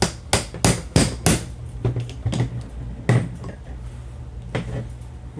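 Hammer tapping a roll pin into a rifle, several sharp metallic taps in quick bursts with short pauses between, close and clear over a low background hum.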